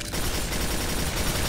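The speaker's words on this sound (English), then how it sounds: "Fear my machine gun." Sustained machine gun fire in the video game Quake 4 forms a dense, unbroken rattle at steady loudness, close and alone without talk.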